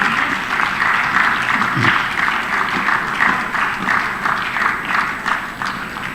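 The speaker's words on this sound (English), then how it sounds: "Please give a huge round of applause." Sustained applause from an audience at a military literature festival in Chandigarh, dense and steady clapping filling the space for several seconds without a break.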